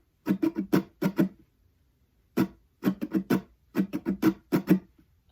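Muted acoustic guitar strums in a rhythmic pattern, without a ringing chord, as crisp percussive scratches in quick clusters, with a brief pause before the pattern repeats twice more, close and moderately quiet.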